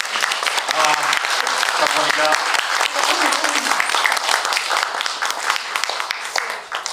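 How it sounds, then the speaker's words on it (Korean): An audience at a Korean guest-visit film talk applauds the visiting director with steady, sustained clapping that fills the hall. A voice speaks briefly over the applause near the start. "감독님 오늘 이렇게 좋은 말씀 많이 들려주셨는데 큰 박수를 한번 부탁드리겠습니다"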